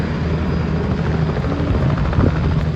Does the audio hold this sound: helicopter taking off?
yes